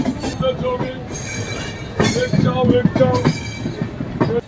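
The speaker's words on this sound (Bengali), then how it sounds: "আর এই ট্রেনের প্রথম হল্ট হলো সাঁতরাগাছি।" Tamralipta Express running from Howrah toward Digha, nearing its first halt at Santragachi, rumbles loudly from close by, with shrill wheel squeals and clattering bursts rising and falling.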